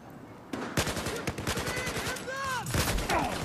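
Rapid automatic gunfire from the Battlefield 4 Siege of Shanghai beta map, a dense burst of shots after a brief quiet start, with whistling and ricochet-like streaks over the continuous firing.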